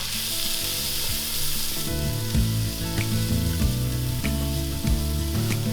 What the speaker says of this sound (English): We're gonna let that melt down before we saute our onions.